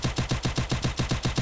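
Rapid automatic gunfire in the video game Free Fire, an evenly spaced burst of about ten close, punchy shots in quick succession, loud and alone with no voices.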